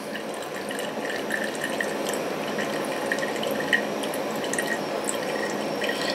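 Steady trickle of distillate dripping and running from a moonshine still with a 4-inch column, a continuous close liquid patter with small drips scattered throughout.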